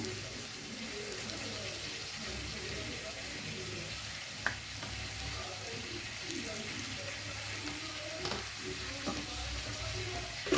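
Chicken cooks in a pan with salt and turmeric, a steady close sizzle of frying with occasional stirring taps and scrapes throughout.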